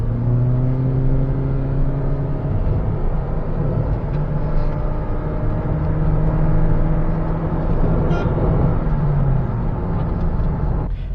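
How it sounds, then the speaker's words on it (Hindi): A Toyota Prius Alpha hybrid pulls away under acceleration, a steady close engine hum with rising and falling tonal whine, continuous and loud, with no talk over it. "गाड़ी निकलती है।"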